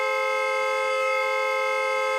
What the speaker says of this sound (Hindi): अरे कौन है ये नॉन स्टॉप हॉर्न बजा रहा है?